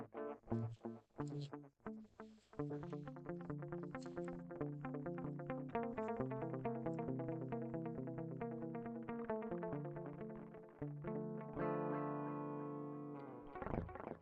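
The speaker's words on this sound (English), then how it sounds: "you can put a delay on your DI tone. It'll just sound like that, but it'll have a delay effect to it" An electric guitar played through a clean DI tone with a delay effect, a rhythmic picked riff whose notes repeat and trail into echoes, ending on a sustained chord.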